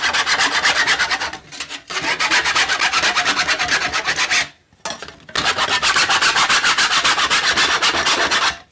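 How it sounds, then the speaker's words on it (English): A hand file rasps rapidly back and forth across the jagged edges of a handmade Christmas ornament, loud and close, in three long rhythmic bursts separated by short pauses, with no talk. "I'm going to take a little bit of a file. I'm going about a 45. And just get rid of all those snarls."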